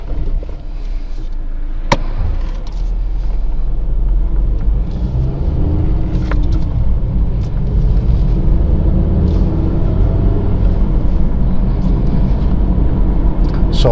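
A car slows under braking while left in gear, its engine and road rumble steady and close throughout, with a couple of brief knocks; a voice talks over it.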